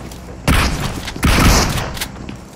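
A grenade goes off in BGMI during a tournament match: two heavy, loud booming blasts in close succession with a rumbling tail, and no talking.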